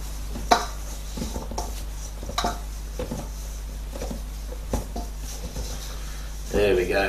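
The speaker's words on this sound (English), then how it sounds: "And then we want to throw our lamb shanks in there, just give it a good stir," Lamb shanks are stirred in a pot, producing intermittent scrapes, knocks and wet shuffles of meat against the vessel. The sounds are close, with a louder clatter near the end, and no voices are heard.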